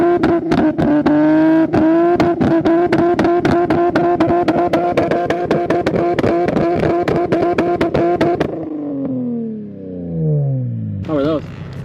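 An Infiniti Q50 engine, tuned to shoot exhaust flames, is revved hard over and over, loud rapid bursts with popping crackles, then the revs fall away and the engine settles into a low idle.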